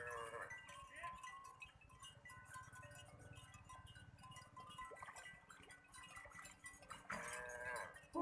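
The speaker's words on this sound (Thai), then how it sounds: "เลี้ยงงัวเลี้ยงควาย" Cattle and water buffalo being herded in the evening, with cowbells clanking irregularly amid animal movement and a few calls at moderate distance. People talk faintly in the background.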